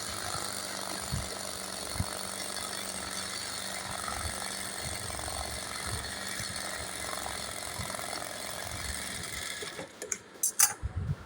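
A sewing machine stitches an embroidery design, giving a steady, close mechanical whir with a ratcheting clatter that runs without a break, then stops into a few sharp clicks near the end.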